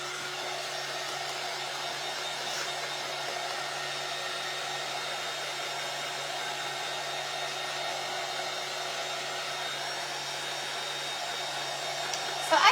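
A hair dryer blows steadily at close range to dry a decoupage mould craft piece, a constant even whoosh with a faint hum running unbroken for the whole stretch.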